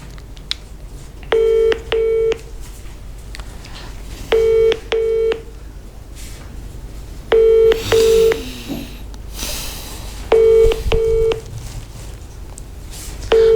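Telephone keypad tones beep in four quick bursts of two or three presses each, evenly spaced, as an international call is dialed, over a low background hum with some rustling.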